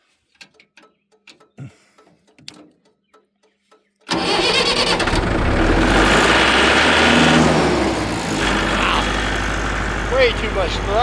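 A tractor with a bucket fitted cranks and fires up, then settles into a loud, steady idle close by. Quiet clicks and handling noises come before the start.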